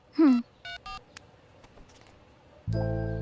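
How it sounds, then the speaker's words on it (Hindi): A quick series of electronic telephone keypad tones, short beeps in a rapid run, then a steady tone starts near the end. "रुको, मैं कॉल करके देखती हूँ।"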